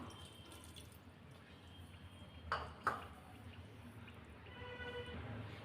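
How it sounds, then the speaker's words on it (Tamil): Water pours briefly into a mixer jar, with two short splashing bursts over steady kitchen background noise. "இப்போ ஒரு அரை கப் அளவு தண்ணி சேர்த்துக்கலாம்"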